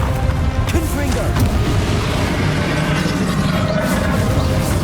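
A Confringo fire spell blasts in Hogwarts Legacy during a fight with a dragon, a loud, rumbling burst of fiery explosion layered over dense game sound effects and music, heavy and sustained.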